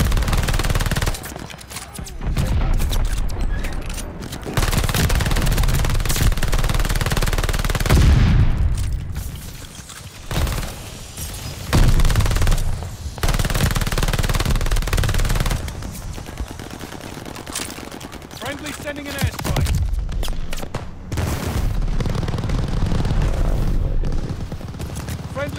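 A PPSh-44 submachine gun in Call of Duty: Vanguard fires loud, sustained automatic bursts during a team deathmatch on the Berlin map. Brief pauses separate the bursts, and heavy game sounds layer over them.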